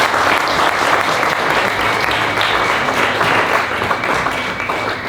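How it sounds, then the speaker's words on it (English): Steady, dense applause from a conference audience at the Influencers Unite 2018 event, many hands clapping at once and holding an even, loud level for about five seconds before easing slightly at the end. "I think we all deserve a round of applause."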